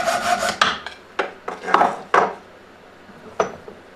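Crossbow bolt end being cut off for a homemade airbow, a series of sharp rasping strokes, about six distinct cuts spread over a few seconds, close and fairly loud, with no talking.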